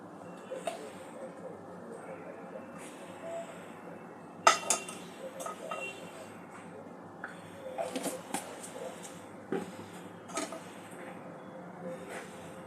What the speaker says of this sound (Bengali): এখানে আমি কড়া বসিয়ে দিয়েছি। 1 চামচ ঘি দিয়ে দেবো।